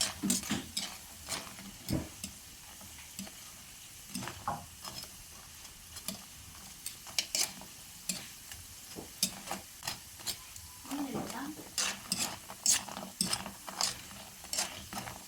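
Fishballs fry in a pan with sauce, producing crackling sizzles mixed with frequent sharp scraping and clicking stirs in an uneven rhythm, close and moderately loud.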